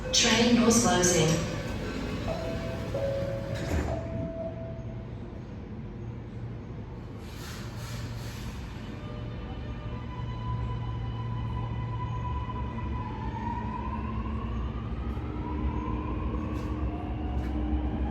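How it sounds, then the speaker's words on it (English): Sydney Metro train doors close at Martin Place underground station, marked by an electronic chime and rising tones. A steady train hum runs beneath them, with a voice and a brief announcement over the platform ambience. "Train doors closing."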